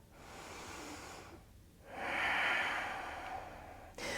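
Deep breathing during a vinyasa yoga flow: a long, steady breath, a short pause, then a second fuller, louder breath, close and alone with no talking.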